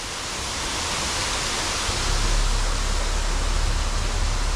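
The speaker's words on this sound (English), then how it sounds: "that's a Regina waterfall." A man-made waterfall in Regina pours in a dense, continuous roar that swells slightly and deepens partway through, loud and close with no voices.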